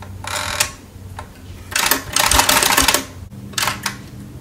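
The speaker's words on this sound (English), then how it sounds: "The Forecast 12 typewriter made from Sears." A Sears Forecast 12 manual typewriter clacks through bursts of rapid keystrokes, each run of close, sharp strikes broken by short pauses, loud and alone.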